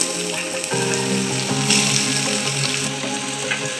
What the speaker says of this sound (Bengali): তেল গরম হয়ে গেছে, এবার এর মধ্যে আমরা পেঁয়াজগুলো আস্তে আস্তে দিই।